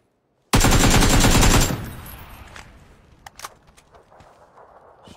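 Gunfire in the PUBG video game: a loud, rapid automatic burst of about a second, followed by fading echoes and a few scattered distant shots.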